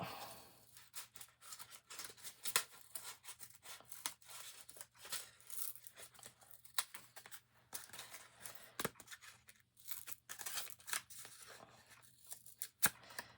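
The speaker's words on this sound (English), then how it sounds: "And now I'm going to cut that out." Scissors cut out a corrugated cardboard template, giving irregular crisp snips and scraping crunches scattered across the stretch, close and fairly quiet, with no voices.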